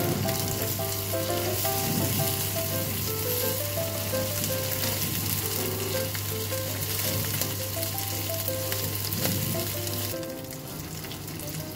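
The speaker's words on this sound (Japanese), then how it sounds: "油をフライパンに入れてあげてレバーを焼いていきます。" Liver frying in oil in a frying pan, a steady, close sizzle that fills the whole stretch, with a low hum underneath and light shifting crackles before it quiets near the end.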